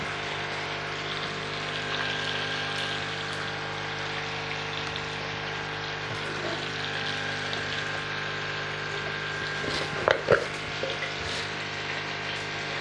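Two green cardamom pods go into hot oil for Pakistani mutton karahi, a steady close sizzle and fry hiss running throughout, with a brief burst of crackling pops near the end.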